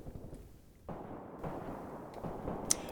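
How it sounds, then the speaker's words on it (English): Heavy artillery shells land in the wargame Graviteam Tactics, with a few distant, muffled booms rumbling one after another at low volume and no talk over them. "More heavy artillery landing."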